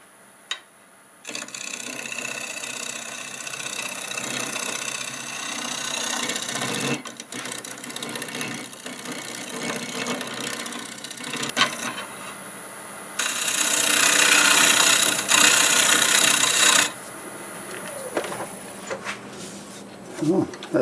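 A wood lathe spins a piece of guava wood while a negative rake scraper works it, giving a steady whirring hum with rasping scraping passes that swell and fade, with occasional talk.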